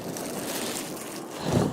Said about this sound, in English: it just got really windy all of a sudden